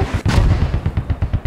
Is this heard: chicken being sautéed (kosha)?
no